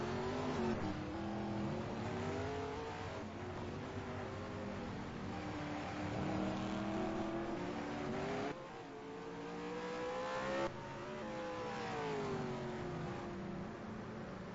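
A V8 touring race car pushes hard on a qualifying lap at Surfers Paradise, its engine howling loud and steady with rising and falling pitch through gear changes and a brief dip near the middle, with no talk over it.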